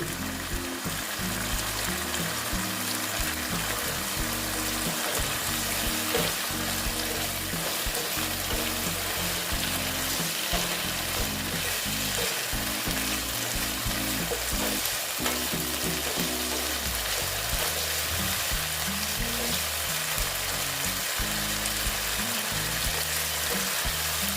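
Vegetables sautéing with pointed gourd for mouri potol, a dense continuous sizzle with repeated scraping and stirring clatter throughout, loud and close with no talking.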